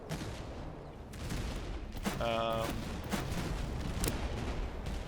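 Cannon and musket fire crackle in the Master of Command video game as several sharp volleys and booms sound over a steady battle background, with a faint tonal game effect in the middle.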